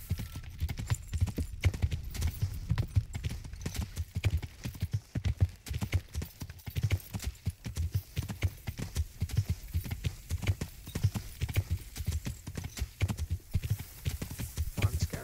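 Horse hooves clip-clop steadily and continuously in the Skyrim video game, a busy rhythmic gait close up with a brief whinny-like touch, lasting throughout.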